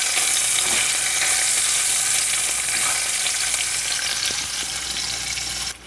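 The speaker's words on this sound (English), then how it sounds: "My fish has been cooking for about 3 minutes" Tilapia fish fries in a pan over medium-low heat, a loud, steady sizzle with crackling pops close by, fading slightly at the end.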